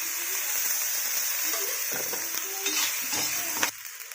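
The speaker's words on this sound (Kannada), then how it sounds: "ಈ ಥರ ಫ್ರೈ ಆದ ನಂತರ ಸ್ವಲ್ಪ ಎಣ್ಣೆಯನ್ನು ಹಾಕಿಕೊಂಡು ಫ್ರೈ ಮಾಡಿಕೊಳ್ಳಿ." Karchikai masala frying in oil sizzles steadily and close, with soft stirring scrapes and light utensil taps through the few seconds.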